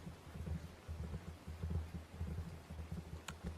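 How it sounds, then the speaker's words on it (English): Rain drumming on a metal roof, a steady low rumbling patter that holds constant throughout, with no voices. "Metal roof, sound of rain, that's perfect."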